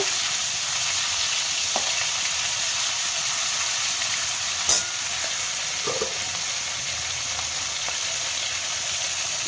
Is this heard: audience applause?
no